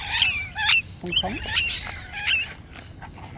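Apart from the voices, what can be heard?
cockatoo squawking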